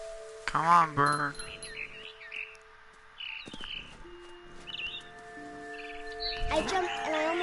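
Small bird chirping in the video game What Remains of Edith Finch, several short tweets scattered through the clip over a quiet ambient game backdrop, with brief close chirps early on.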